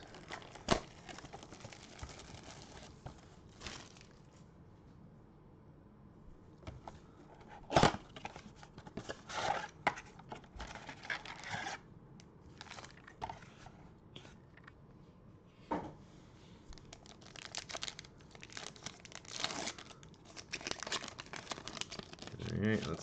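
NBA Prizm trading card blaster packs are torn and opened, with crinkling foil wrappers, tearing and sharp rustles scattered across the clip under a voice.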